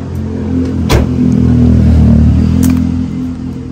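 A Toyota Soluna XLI idles loudly up close with a low, rumbling engine drone that swells slightly mid-way, with a couple of brief clicks over it.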